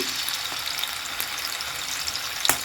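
Garlic fries in coconut oil in a pan for a mutton curry, giving a bright, continuous crackling sizzle close by with a few sharper pops and no talk.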